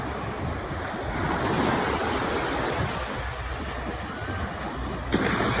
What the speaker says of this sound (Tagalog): Wow! Taas ng mga alon dito, kabakla!